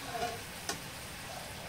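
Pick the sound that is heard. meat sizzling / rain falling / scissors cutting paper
meat sizzling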